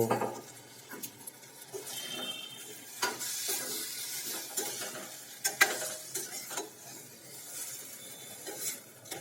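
Garlic paste, coriander and cumin powder frying in a pan for a Rajkot-style shak chapdi, with a soft steady sizzle broken by scraping stirs and occasional spoon clinks against the pan, close up and with no talking.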